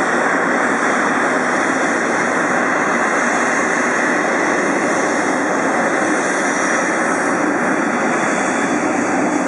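A Boeing 777 jet airliner on landing, with a steady, loud, broadband engine roar that holds evenly throughout without breaks or voices.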